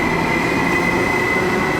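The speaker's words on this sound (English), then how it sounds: "There it goes to Stockholm." A passenger train leaving Gothenburg for Stockholm rolls past close by, giving a loud, continuous rumble with a bright tonal whine from the wheels on the rails.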